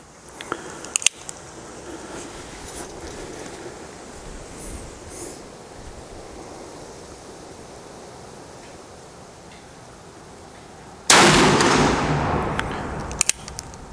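A Ruger Super Blackhawk Hunter revolver fires single action outdoors: one loud, booming shot with a long, fading echo near the end, preceded and followed by a few sharp mechanical clicks.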